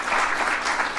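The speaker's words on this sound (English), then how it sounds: "let's give a round of applause to the administration and the great work that they did" Sustained applause from a seated audience at a National Governors Association gathering, steady and full for just over a second with no voices above it.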